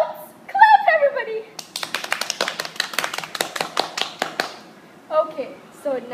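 A small group claps in a quick, rapid burst of hand claps after an orange floats in water during a density experiment, with a voice speaking just before and after.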